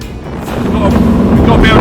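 Cigarette 36 Gladiator powerboat with twin 9.1 litre V8 engines, a loud, steady close-up roar and rush of engine and hull noise running at speed on the water.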